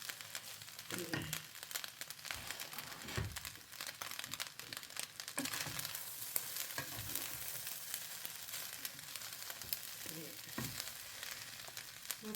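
Two eggs stir-fry in a pan with a dense, crackling sizzle, broken by repeated scraping and clattering of a utensil against the pan, close and busy throughout with no clear talking.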